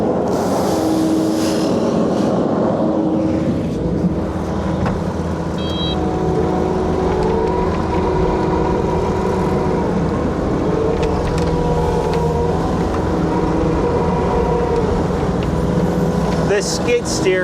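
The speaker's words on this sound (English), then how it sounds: "This skid steer is great, but it sucks on the snow" A skid steer engine runs in a farm barn used for feeding and cleaning cattle, with a loud, steady, close drone that holds constant throughout.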